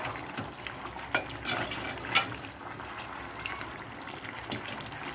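Spinach is stirred into masala in a pan for a palak kaleji dish, giving a faint, continuous sizzle with scattered utensil scrapes and clinks.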